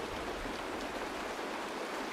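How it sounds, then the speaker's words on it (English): Steady rain falls in Honkai: Star Rail, an even broadband hiss of dense drops with no voices, constant and close throughout. "It is raining! It's true!"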